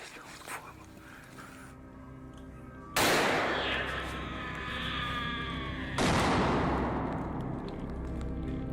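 Two sharp gunshots crack during a wild hog hunt in brush country, each a loud sudden blast followed by a long reverberating tail, with steady ambient noise underneath.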